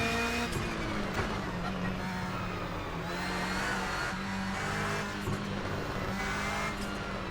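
Subaru driven fast up the winding Mt Washington road, its engine revving and shifting in steady pulls with occasional tire noise, heard from inside the car at moderate level.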